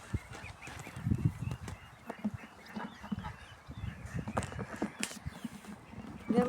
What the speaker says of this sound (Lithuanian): Žąsį va tokia.